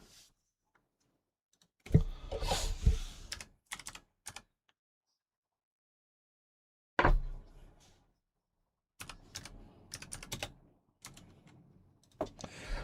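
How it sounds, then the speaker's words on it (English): Someone types on a computer keyboard in short bursts of close, rapid clicking separated by silent pauses, with no talking. "Oh my God, wrong keyboard. What am I doing? Why was I even typing that?"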